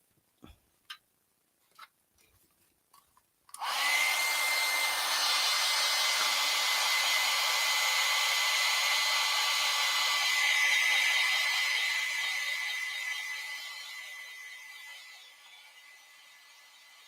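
A few soft ticks come first, then a hair dryer switches on with a loud, steady whir and blows over a freshly painted watercolor sunflower girl, fading slightly toward the end.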